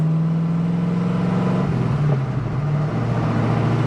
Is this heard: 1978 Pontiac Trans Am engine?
yes